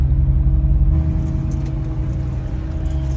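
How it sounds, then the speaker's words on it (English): A Jeep idles and rumbles low on off-road terrain in Moab, a steady close engine drone with slight mechanical rattles and no talking. "All right, so Ernest let me drive his Jeep."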